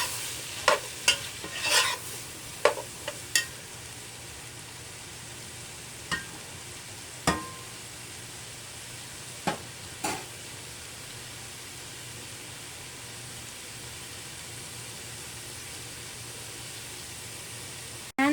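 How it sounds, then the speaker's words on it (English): A spoon stirs sweet potato, grated carrot and other corn soup ingredients in a pot over a soft steady simmer or sizzle, with several sharp clinks against the pot early on, then sparse knocks and a quiet hiss. "I'm gonna stir it up really well now"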